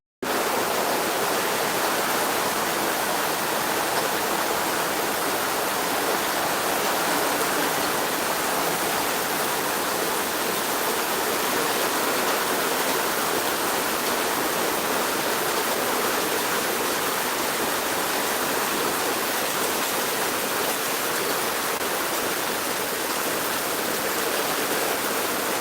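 Heavy March rain pours down in a steady, dense wash of noise that holds constant and loud throughout, with no voices.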